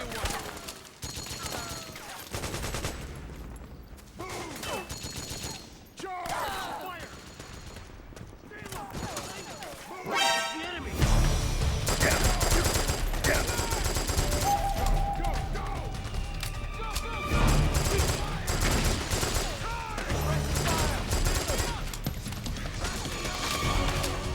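Gunfire from the video game Metal Gear Solid 4 crackles in dense, loud bursts, sparse at first and then a sustained fusillade of rapid automatic shots from around the middle onward, with shouting voices and clanking mechanisms mixed through.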